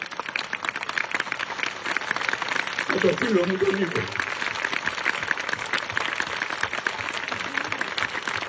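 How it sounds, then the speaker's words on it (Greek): A concert audience at the Festival of the Walls gives a warm, sustained round of applause at a performance, a dense continuous clatter while someone talks over it. "αναγκάζοντας το κοινό σε ένα θερμό παρατεταμένο χειροκρότημα"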